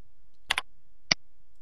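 Computer mouse clicks: a quick double click followed by a single click, crisp and close against near silence.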